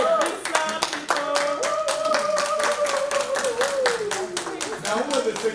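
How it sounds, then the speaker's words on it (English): People at a youth convention session clap in a steady run of sharp, evenly spaced hand claps, close and fairly loud, while a voice sings or calls out over the clapping. "let's give her a big clap, people."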